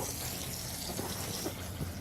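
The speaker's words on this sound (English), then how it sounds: "Drain your coolant." Coolant drains from a Nissan drift car in a soft, steady trickle and gush, faint and continuous with a few small splashes.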